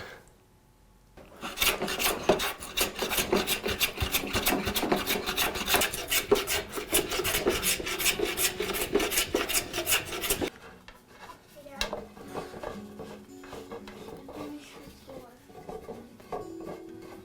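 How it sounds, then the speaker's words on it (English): A wooden nut grinds and rasps as it is run onto a wooden bolt cut with just a saw and chisel, a loud continuous rubbing scrape with rapid repeated strokes, then dropping to quieter intermittent scraping. "the nut has been rubbing really, really hard and grinding into the wood"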